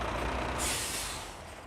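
A loud, sustained hiss of a truck air brake releasing rings out nearby in Wales, then slowly tapers off.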